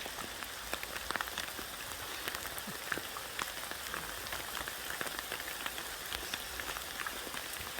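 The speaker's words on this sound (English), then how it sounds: "The hailstones are painful." Hailstones patter steadily through tree canopy in the Forest of Dean during a British summer storm, a dense, fairly quiet rattle of many small impacts with occasional sharper hits.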